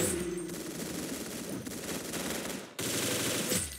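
Rapid automatic gunfire in a shooting video game, loud and sustained in continuous bursts with a brief cut near the end before the firing resumes, no talk.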